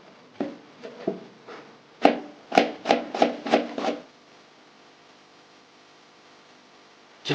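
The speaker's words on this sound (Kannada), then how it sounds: "ಆ ಥರ ಈ 3 ಈರುಳ್ಳಿನೂ ಕಟ್ ಮಾಡ್ಕೋಬೇಕು" Knife slicing onions thinly on a board, a run of about nine close, crisp strokes with a quick burst of five near the middle, then quiet.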